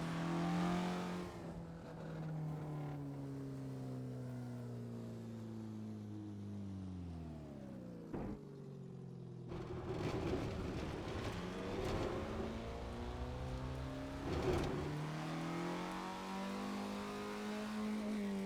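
A 1965 Alfa Romeo GTA's engine revs through the gears in Assetto Corsa on a 1960s Riviera track, rising and dropping in pitch with gear-change breaks around the middle, loud and alone.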